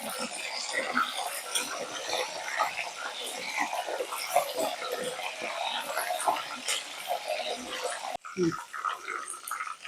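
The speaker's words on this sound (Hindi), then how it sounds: "और अब हम डीप फ्राई कर लेंगे ये मूंगफली के उबले हुए दाने" Steady hiss and crackle of boiled peanuts deep frying in hot oil, continuous and fairly close, with a brief clatter near the end.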